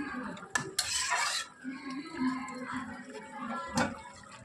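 Boiled potatoes being mashed in a pan, heard as close, irregular scraping and clinking of a utensil against metal with a few sharper knocks.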